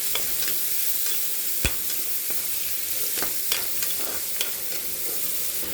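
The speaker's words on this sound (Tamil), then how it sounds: "இஞ்சியும் பூண்டையும் போட்டுக்கலாம் வதக்கிடலாம்" Ginger and garlic sizzle and fry in a pan, a constant bright crackle broken by several sharp clicks of a utensil stirring, with no voices.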